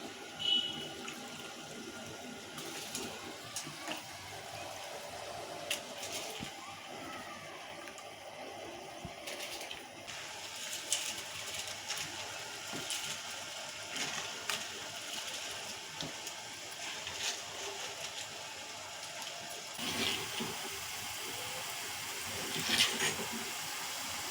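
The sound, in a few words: water boiling on simmer for mutton biryani rice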